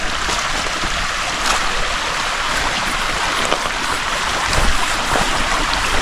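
A creek runs along the bottom of a wooded valley where an old road crosses, giving a steady broadband rush of water that holds even and close throughout, with no voices over it.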